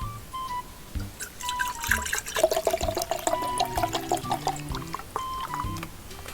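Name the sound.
pouring a drink into a glass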